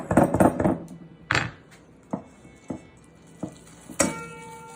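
Roasted Sweet 100 and Sun Gold garden tomatoes being mashed into a paste, with a flurry of squelching, clattering strokes followed by a few separate knocks and thuds, close by with no talk.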